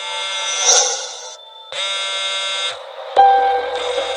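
A phone rings with harsh, buzzy electronic tones in repeated bursts, loud and close, with brief gaps between rings.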